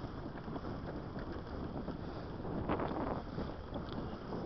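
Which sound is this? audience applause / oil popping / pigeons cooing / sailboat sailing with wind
sailboat sailing with wind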